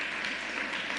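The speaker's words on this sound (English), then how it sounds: "let me give you all an extra round of applause" Applause from an audience of elected leaders at a Brooklyn government announcement, a steady dense wash of clapping filling the whole moment without voices.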